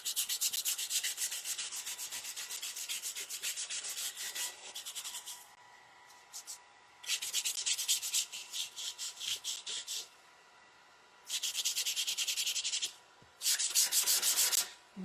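Sandpaper rubs over a painted wooden patriotic craft piece in short, close, raspy bursts separated by brief pauses, with no talking.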